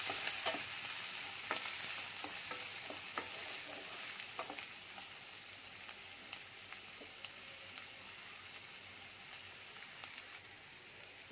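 Vegetables for an ivy gourd poriyal sauté in a pan, giving a soft, even sizzle with light crackles throughout and no talking.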